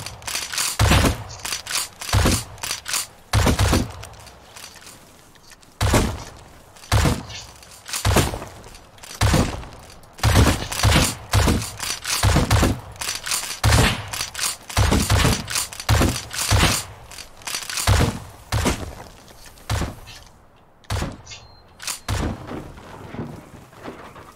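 Rapid bursts of gunfire crack repeatedly in uneven volleys, loud and close, with brief pauses between shots and no talking, in the video game Rust during a raid.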